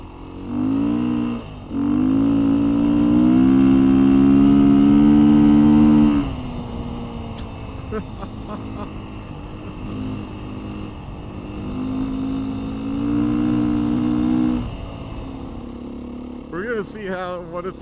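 Vehicle speeding up on a dusty road on Mt Herman Rd, engine heard from inside rising loudly in pitch as it accelerates, then easing and surging again, with people talking over it.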